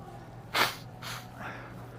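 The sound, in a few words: blowing nose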